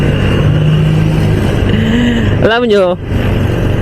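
A Motorstar Xplorer 250 motorcycle engine with its stock exhaust runs loudly and steadily close by while someone speaks briefly over it.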